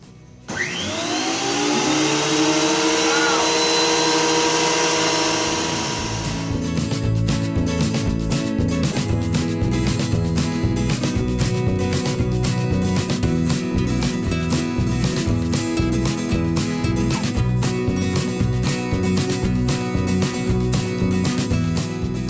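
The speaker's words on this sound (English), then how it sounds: "hook up the dust collector, because this makes a lot of sawdust and makes a big mess" A dust collector spins up with a rising whine, then runs loud and steady alongside a woodworking machine that starts cutting with a rapid rhythmic chatter, both continuing close and loud with no talk.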